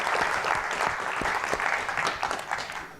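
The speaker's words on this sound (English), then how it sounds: "So I think we owe you all a big round of applause." A conference audience applauds, a moderately loud patter of many hands that stays steady and then begins to thin out toward the end.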